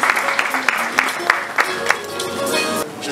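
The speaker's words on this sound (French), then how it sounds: "Applaudissements encore pour lui." Audience applause at a road safety awards ceremony, a run of sharp claps over a steady crowd wash with a voice and tonal sound underneath, thinning out toward the end.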